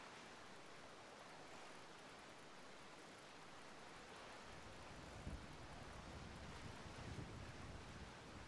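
Steady broadband wash of ocean surf along a shore in the GTA 5 video game, a continuous low roar with a couple of slightly heavier swells breaking near the end, no voices present.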